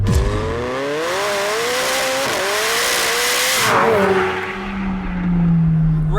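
A turbocharged McLaren 765LT or Lamborghini Aventador SVJ supercar engine revs hard and close, rising pitch sweeping up through repeated gear pulls, with a tire squeal and a final drop into a lower, steady drone.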